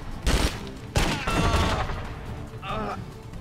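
Bursts of rapid submachine gunfire crack out loudly in the video game Wheelman, two sharp volleys followed by a shorter, quieter burst, with game-like echoes between them.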